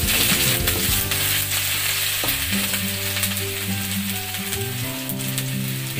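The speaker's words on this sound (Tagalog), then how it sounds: "So, una muna natin igigisa is luya" Ginger sautés in hot oil in a heated pan for ginisang monggo, a loud, dense, steady sizzle that continues without pause.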